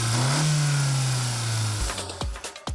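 A Honda Civic with a 1.5-liter turbocharged four-cylinder gasoline engine drives with a steady, droning engine note. The pitch rises briefly, then the sound breaks into a few sharp whooshes near the end.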